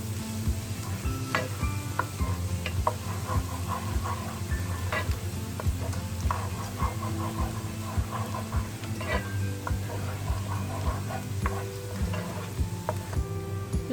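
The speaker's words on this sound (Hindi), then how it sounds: "लहसुन को अच्छी तरह से गोल्डन कर लें।" Garlic paste frying in half a cup of hot oil in a pan for a chicken biryani, a steady dense sizzle with scattered crackles and pops, continuous and close, with no one talking.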